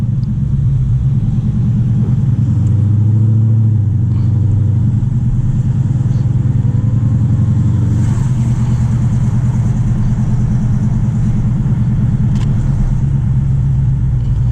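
A cammed Dodge Challenger Scat Pack with its exhaust valves closed rumbles steadily and loudly from inside the car, a deep, continuous burble with a slight swell around the middle and no talk over it.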